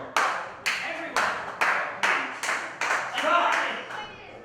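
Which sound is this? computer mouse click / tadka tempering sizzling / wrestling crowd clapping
wrestling crowd clapping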